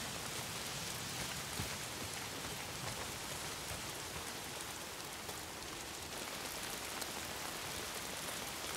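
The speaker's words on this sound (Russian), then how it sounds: "Проклятый дождь." Steady, dense rain pours down continuously in the video game Days Gone, a constant hiss of drops with no other sounds standing out.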